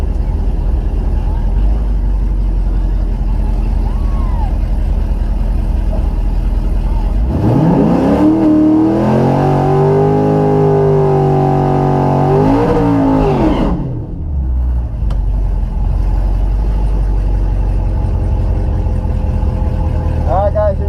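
Camaro SS drag car engine revs hard for several seconds, rising and holding a loud, rough roar before cutting off, with idling engine noise before and after and people talking around it.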